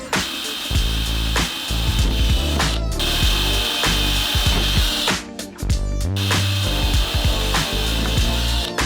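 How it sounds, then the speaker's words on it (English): A loud power drill whines steadily at close range while drilling holes in piping, its pitch shifting as the bit bites and frees. Short pauses break up the drilling, with no talking. "Now that I got all the holes drilled out on the piping"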